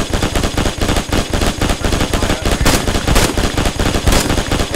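Dense automatic and rifle gunfire in a World War II shooter game, rapid overlapping bursts and shots rolling continuously at high volume, close and sustained with no talk.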